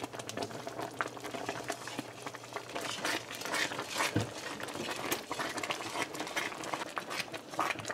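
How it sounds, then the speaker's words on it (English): Vermicelli pudding boils in a pot with a steady, close bubbling and sputtering that continues without pause and without talk. "So this has come to a boil again, as you can see."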